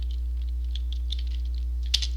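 Light, irregular keystrokes on a computer keyboard while entering C code, soft scattered clicks with a slightly louder cluster of taps near the end, over a steady low electrical hum.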